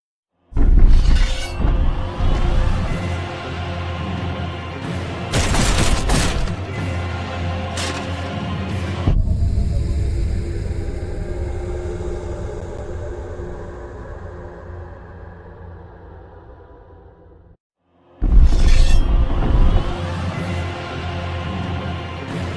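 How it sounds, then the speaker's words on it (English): Video game music built in Wwise with Unreal 5 plays loudly, then cuts into a shattering death sound effect with a long fading tail, a brief silence, and the music returns. "the music starts right when the level starts, and it smoothly transitions to the death sound effect when the player dies"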